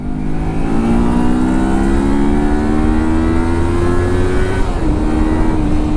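Kawasaki Versys X 300 motorcycle pulls hard in third gear, its engine whine climbing steadily in pitch with a brief dip near the end, under constant wind rush and with no speech.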